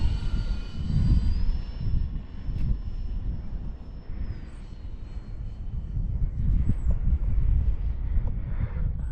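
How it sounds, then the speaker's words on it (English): An E-Flite Valiant 1.3 m RC model airplane flies in a steady, continuous electric motor drone with a rising and falling whine as it circles, with light wind noise at the microphone. "Lovely, lovely aeroplane."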